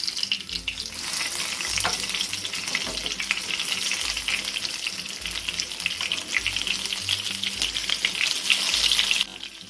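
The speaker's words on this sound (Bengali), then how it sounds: "এবার বেগুনগুলো হালকা লাল করে ভেজে নেবো" Brinjal slices fry in hot mustard oil in a frying pan, giving a steady, close crackling sizzle with faint stirring and scraping throughout, and no talk.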